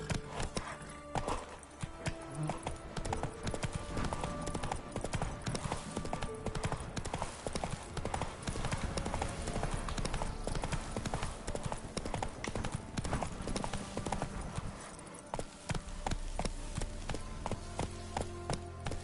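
Horse galloping in The Witcher 3 game, rapid steady hoofbeats drumming continuously over a dense backdrop of game music and ambience, loud and close throughout.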